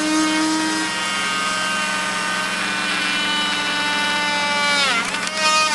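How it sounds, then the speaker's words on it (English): A small Dremel rotary tool whines at high speed while cutting, a loud close tonal drone that holds steady, then dips and climbs again as it bites into the material. "Here's my little Dremel tool that I use for everything."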